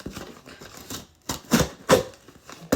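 Scissors cut open the cardboard gift box of a birthday present, making a few sharp, close snipping and crunching sounds separated by short pauses.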